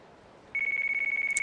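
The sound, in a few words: phone ringing in the video game Yakuza 3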